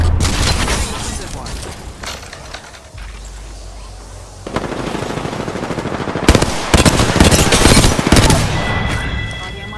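Artillery strike in a shooter video game, dense rapid bursts of gunfire and booming impacts building loud and close, with talk mixed underneath.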